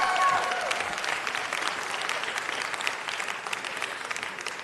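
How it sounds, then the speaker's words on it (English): A large crowd at a civic ceremony in Los Angeles claps steadily, a dense wash of applause that starts strongest and eases slightly while continuing throughout. "Now that's worth a bigger round of applause than that."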